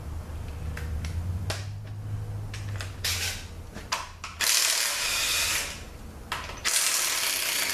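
16 mm bolts being removed from a 62TE transmission: a series of quick ratchet clicks and bursts of tool whirring, close by, with short pauses between, no talking.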